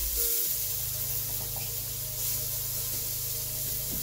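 Chopped onion and carrot hit a hot frying pan and sizzle steadily, a close, continuous crackling hiss with a low hum underneath and no voices.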